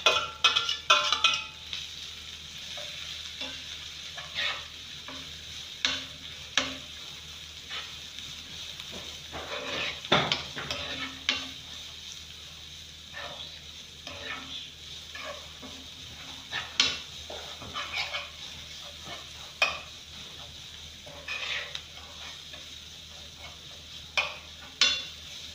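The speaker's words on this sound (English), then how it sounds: "Then I'll add my cabbage, my onions, my thyme, my carrots, my green pepper." Cabbage, onion, carrot, green pepper and thyme stir-fried together in a pan: a low, continuous sizzle with scattered scrapes and clinks of the utensil against the pan, fairly faint.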